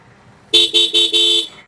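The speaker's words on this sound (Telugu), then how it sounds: "హార్న్ అనేది చాలా లౌడ్ అవుతుంది" Horn of a Bajaj Pulsar 220F motorcycle, sounded up close as four loud, short honks in quick succession.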